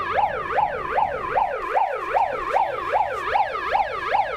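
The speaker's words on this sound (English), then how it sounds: "I'm gonna turn the siren on" Siren sound effect wailing in a fast, regular up-and-down sweep, about ten cycles in a few seconds, clear and moderately loud with no voices.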